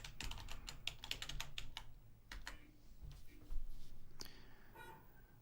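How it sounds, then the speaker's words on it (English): Quick, close keystrokes on a computer keyboard come in a fast run of clicks, then a pause, then a few scattered taps, with no talking over them. "We're going to type channel reference 1, and then we're going to type calibrate."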